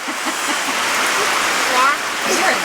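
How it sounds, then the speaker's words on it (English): Heavy rain falls steadily on a farmyard on a wet morning, a dense, close hiss and patter with some splashing throughout. "raining a lot, isn't it?"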